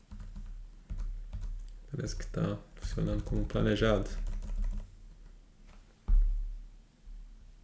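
Steady clicking keystrokes on a computer keyboard run throughout while someone speaks Portuguese over them, the typing close and continuing between his phrases.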